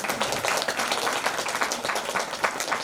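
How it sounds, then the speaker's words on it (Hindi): Dense, steady applause from a crowd honoring a donor at a religious festival, with many hands clapping continuously and fairly close for the whole stretch. "तो जोरदार ताली बजाई जाए"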